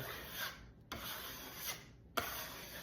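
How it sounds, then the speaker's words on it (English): A plastering trowel being cleaned during a faux marble polished plaster job, heard as close rasping scrapes of metal in two long strokes broken by short gaps, with no talking. "Clean my trowel"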